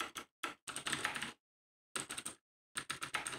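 Bursts of rapid typing on a computer keyboard, close and clear, arriving in three separate runs of clattering keystrokes with short silent gaps between them.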